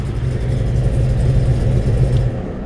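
A 1970 Chevrolet Chevelle SS engine idles loud and close, a continuous deep rumble that holds steady and then cuts off near the end.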